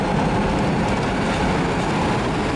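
A train pulls out of a station in the Alpine region, a steady, loud, broadband rumble of rolling stock filling the whole stretch with no pauses.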